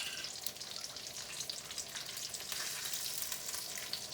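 Ginger added to a sizzling chicken karahi, giving a continuous dense hiss of hot oil that stays even and fairly soft throughout, with no voices.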